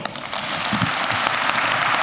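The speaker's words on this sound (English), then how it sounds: "please applaud them" A debate audience applauds the questioners, a dense wash of clapping from a large crowd heard at a moderate distance and sustained evenly without any talk.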